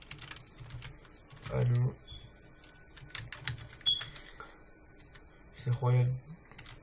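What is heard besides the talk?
typing on a computer keyboard to search Dofus items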